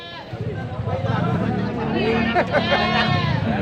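Goats bleat at a livestock sale, wavering calls rising over a busy crowd, with people talking and haggling close by throughout.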